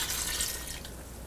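Water trickles and splashes into a cooking pan holding pineapple, green chili, turmeric and red chili powder for pineapple pulissery, a short steady pour heard up close.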